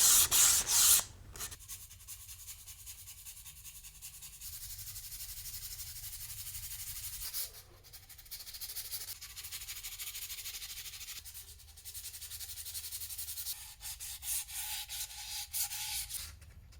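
Accordion parts sanded by hand with sandpaper, long steady rasping strokes close up with brief pauses between passes and one loud scratchy burst at the start, no talking.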